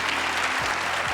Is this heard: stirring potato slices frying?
no